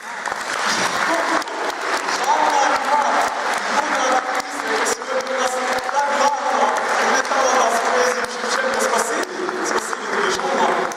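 An audience claps after a recital of Shevchenko's poetry, a dense, sustained round of applause from a crowd that stays steady and full from start to finish.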